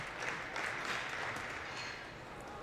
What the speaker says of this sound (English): we have some rhythmic clapping going